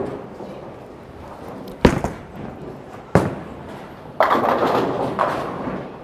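A Roto Grip Gem bowling ball hits the pins with sharp crashes, one loud impact followed by another and then a rattling, sustained clatter of pins, all fairly close against the hum of a bowling alley.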